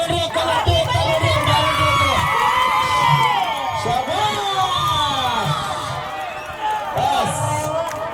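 Loud outdoor crowd cheering and shouting at a single-hand stone-lifting contest on a maidan, steady and close throughout, with whoops and a voice over the noise. Clapping is not clearly separable from the roar.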